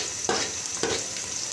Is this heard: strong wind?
no